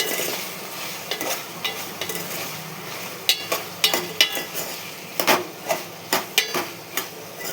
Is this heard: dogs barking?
no